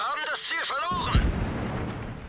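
Tank cannon firing in the video game World of Tanks, a low booming shot striking an enemy's lower plate, heard once after a brief burst of game sound effects.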